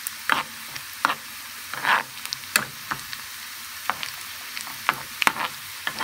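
Orange peels cooking in oil, sizzling softly while a spoon stirs them, with sharp scraping strokes at irregular intervals over a steady frying hiss.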